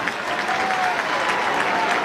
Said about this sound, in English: big round of applause as Hipwood hitting the scoreboard